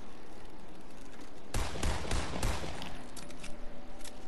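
Gunshots from a player in Fortnite Creative on the original season one map: a loud, rapid burst of firing breaks in partway through, runs for about a second and a half, then gives way to scattered quieter shots.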